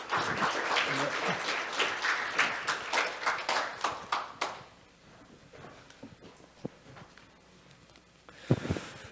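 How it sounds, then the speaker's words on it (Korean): Conference audience at a business forum applauds to welcome a company chief executive to the stage: dense clapping for several seconds that thins and fades, leaving a quiet room with a few scattered claps. "박수로 모시겠습니다."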